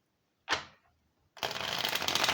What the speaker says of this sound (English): It's just a harder deck to shuffle.